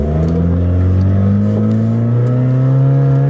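A budget car fitted with racing springs is revved hard at full throttle, its loud, close engine note climbing steadily in pitch through a gear and pulling strongly, with no talk over it.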